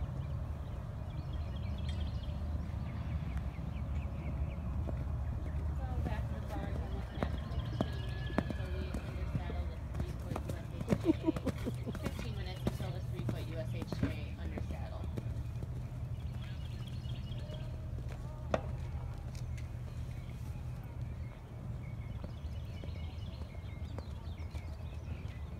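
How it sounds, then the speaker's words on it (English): Horses move around at an equestrian show-jumping venue, with faint scattered hoof thuds and clopping under near-constant conversation and a low background rumble. "There's horses."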